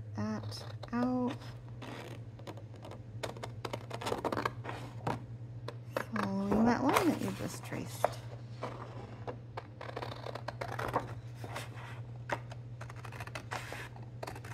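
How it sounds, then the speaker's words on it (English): Scissors snip through paper along a traced line in quick, scattered cuts, close by, while a person talks quietly over them. "But I decided to do it with scissors and just follow that line that I've traced exactly"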